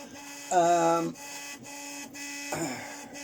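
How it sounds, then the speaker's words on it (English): A 3D printer running nearby, whirring with steady tonal motor whines that rise into louder stepped buzzing bursts, while someone talks over it. "Sorry, my printer's making a lot of noise right now."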